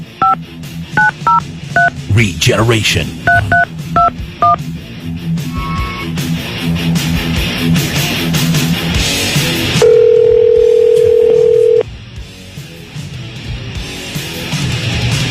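Rapid DTMF keypad tones dial out for a radio call-in, followed later by a steady two-second dial tone; a voice speaks briefly amid studio background noise.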